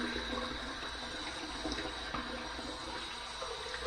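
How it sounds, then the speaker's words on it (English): Hot water pours steadily into a shaving soap bowl, a close, continuous splashing trickle that stays fairly quiet and alone throughout. "And I'm going to put some hot water on top of that."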